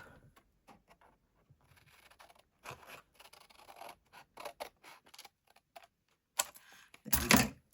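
Scissors snip through paper in a series of short, crisp cuts, close by and fairly quiet, ending with a louder scraping rustle.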